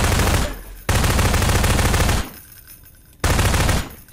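Sustained bursts of loud, close automatic gunfire in Prop Hunt, two long volleys separated by a short pause and a third burst at the end.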